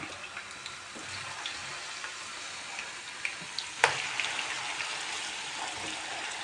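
Potatoes fry in a small pan with a steady, soft sizzle running throughout, broken by a few faint clicks and one sharper tap near the middle; no one speaks.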